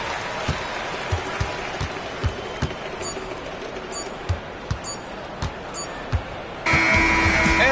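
An arena crowd cheers and applauds in a basketball video game featuring the Thunder, under a commentator's voice, with sneaker squeaks and a loud surge of crowd noise near the end.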